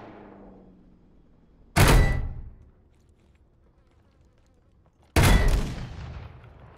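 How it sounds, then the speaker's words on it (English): Two loud, close sniper rifle shots in the Call of Duty video game, fired by a teammate a few seconds apart, each a sharp crack followed by a booming tail that rolls away, with a quiet hum between. "Oh, that's a teammate sniper."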